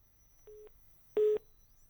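A telephone busy tone after a call disconnects beeps twice, a short flat pulse then a louder one, over quiet line hiss with no voices.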